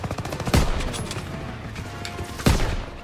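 Gunfire in the WWII shooter game Call of Duty WWII: two sharp, loud rifle shots about two seconds apart over a low game background.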